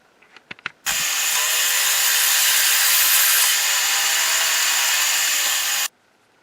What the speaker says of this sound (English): I am going to drill it out a little bit now